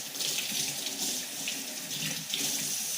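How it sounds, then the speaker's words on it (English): Tap water runs steadily into a sink while a knife is washed after cutting meat, a close, continuous splashing rush with slight swells. "I'm gonna wash my knife"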